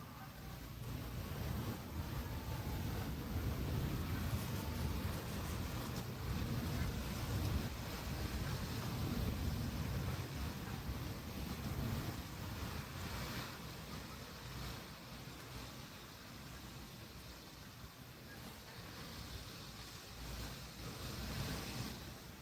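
Strong wind gusting over a small lake, a steady broadband roar with rumbling buffeting on the microphone throughout, loud and continuous with slight easing toward the end.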